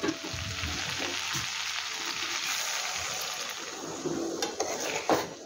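Masala for a dry fish curry frying in a pan, a dense, continuous close sizzle that holds steady throughout, with a few light clinks of a utensil near the end and no voices.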